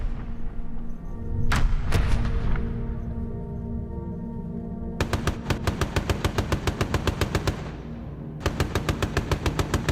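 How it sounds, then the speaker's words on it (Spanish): Mounted machine guns on a World War II B-17 bomber test-fire over the sea after leaving the English coast. A deep boom and a few sharp shots come first, then long, loud, rapid bursts of gunfire over a steady engine drone. "Lo primero que hacíamos al abandonar la costa de Inglaterra era probar las ametralladoras."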